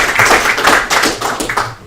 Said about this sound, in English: it's been a ton of work, so we clap for Jimmy.